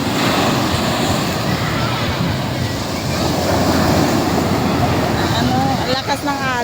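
Powerful surf at high tide on a beach at Eco-Park Agoo, La Union, with a broad, continuous roar of breaking waves and wind buffeting the microphone, close and loud.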